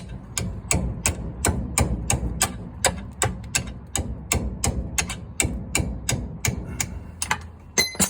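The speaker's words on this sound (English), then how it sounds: "I use a hammer instead of an impact on these older cars." Sharp metallic hammer blows ring out in a steady rapid rhythm, about twenty strikes over several seconds, on the brakes of a 1938-1939 Dodge Brothers car, close and loud with no talking.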